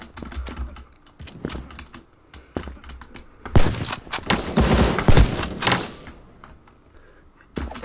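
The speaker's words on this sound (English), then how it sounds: "I love the noise of this gun." Rapid gunfire from a weapon in the first-person shooter video game Krunker, sharp repeated shots in irregular bursts with clustered impact ticks, loudest in the middle of the stretch.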